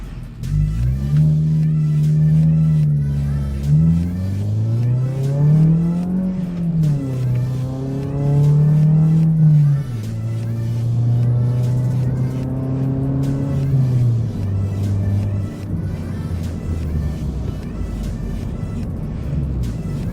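Car on a test drive after a Steeda short shifter install, with engine revs climbing and falling through several gear changes, close and loud, then settling into a steadier drone.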